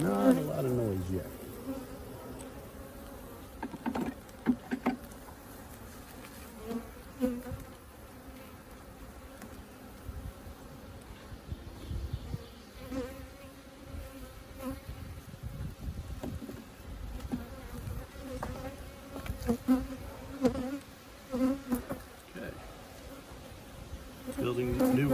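Honeybees in the second of several hives buzz steadily during an inspection, a dense, continuous drone close by that swells and thins with the beekeeper's movements, with no talking.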